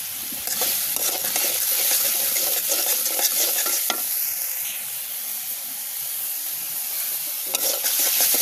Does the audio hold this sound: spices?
yes